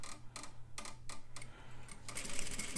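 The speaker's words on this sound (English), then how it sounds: "I'm going to start off with a back stitch" A sewing machine back-stitches along a fabric edge while cleaning up a seam allowance, running in short, even rhythmic bursts of needle clatter over a steady low motor hum, close by and alone.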